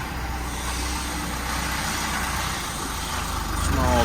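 A small truck arrives with a load of gravel base rock for a road build in Valencia, Philippines, its engine idling in a steady low rumble with a rising note of revving near the end.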